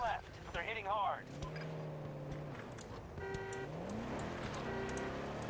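A vehicle horn honks in the video game Battlefield 2042, short tonal blasts sounding twice over engine rumble and battle noise, with someone talking throughout.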